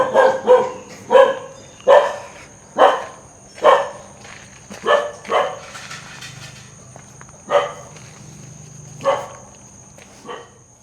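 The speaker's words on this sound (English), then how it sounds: "And there's one of those dogs." A dog in a Mekong Delta town in Vietnam barks in a series of about a dozen loud, close barks, rapid at first and then spaced out, over a faint steady background hum.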